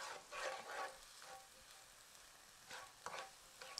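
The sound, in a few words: stirring turmeric and spices in a frying pan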